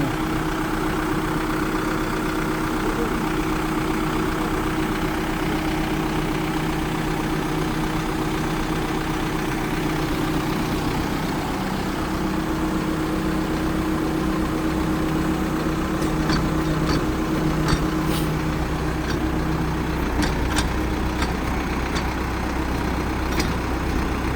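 A new-model farm tractor engine idles loudly and steadily throughout with a constant low, droning hum and a few faint clicks near the end, with no voices.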